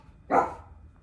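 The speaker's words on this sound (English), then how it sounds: "no manners, this dog" A single short dog bark, fairly close and moderately loud, sounds once against a quiet indoor background.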